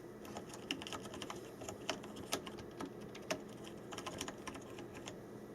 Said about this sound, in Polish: Uwierzycie, że to jest klawiatura mechaniczna?